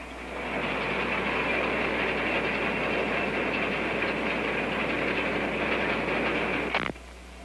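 An axial-flow combine harvester roars loudly and steadily as the cab door is opened from the quiet control center, a broad rumbling mechanical drone that holds for several seconds, then cuts off sharply near the end.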